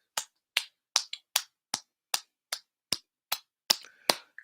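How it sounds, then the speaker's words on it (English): Hand clapping for a new subscriber during a basketball watch-along stream: eleven sharp, evenly spaced claps, one pair close together, loud and near, with no other sound between them. "everybody clap it up for Justin"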